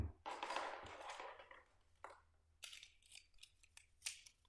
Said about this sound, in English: Where's my paper snips? Here we go. Just enough.